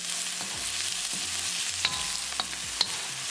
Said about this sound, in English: Cooking ginger along with onion for 1 minute, add green chili.